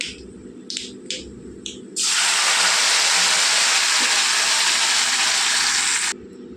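Tomato masala rasam is poured into hot tempering in a pan and erupts in a loud, steady sizzling hiss that lasts about four seconds, then cuts off. A few faint clinks come before it.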